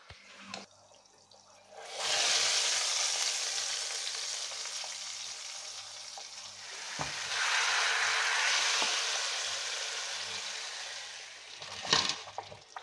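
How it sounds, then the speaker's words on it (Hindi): Loud crackling sizzle of cumin seeds dropped into hot oil for tempering, bursting up suddenly and hissing steadily, then swelling again, with a few clinks of a utensil. "अब मैं इसको तड़का लगाऊंगी"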